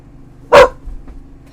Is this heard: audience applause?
no